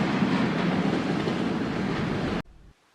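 Loud, steady rumble and rattle of the Spirit of Queensland diesel Tilt Train close by at a station, broadband and continuous, cutting off abruptly to near silence at the end.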